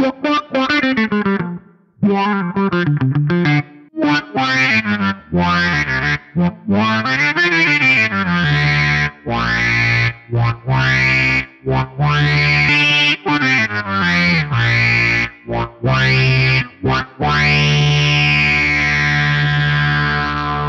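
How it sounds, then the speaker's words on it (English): A Moog Taurus-style synth bass runs through a Fractal FM9 envelope filter, the filter sweeping open on each note in a continuous, loud, funky line with distorted, chorus-tinged sustain and short gaps between phrases. "I like pairing it with an envelope filter as well, so I'll let you hear the filter on its own."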